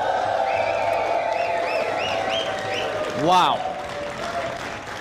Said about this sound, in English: A round of applause, everyone, for our first unified champions!